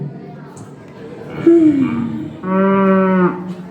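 A cow moos twice, a short falling call followed by a longer, steady, fuller moo, both close and loud over a low background murmur.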